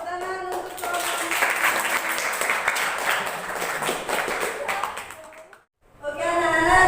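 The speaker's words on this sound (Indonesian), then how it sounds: "tepuk tangan untuk kelompok." A classroom of students applauds a student group at a teaching practice lesson, a dense burst of clapping lasting several seconds before fading out, followed by a teacher speaking.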